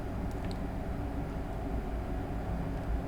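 ICE1 high-speed train running in Train Sim World 3 on the Fulda to Kassel line, a steady low rumbling drone of motors and rolling wheels, constant and close with no talk.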